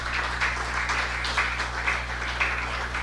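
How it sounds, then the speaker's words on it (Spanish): A church congregation applauds together, a dense wash of many hands clapping in a steady roar with slight swells, fairly near and continuous over a low hum. "Denle un aplauso al Señor"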